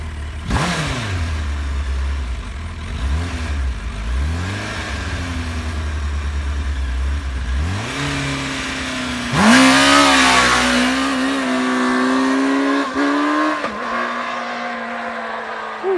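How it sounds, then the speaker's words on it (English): A virtually stock Suzuki Hayabusa street bike launching on a drag strip, the engine revving hard and rising through the gears, then fading as it pulls away, loud and close with no talk. "Brock is practicing some 60 foots and doing a great job on this virtually stock Hayabusa"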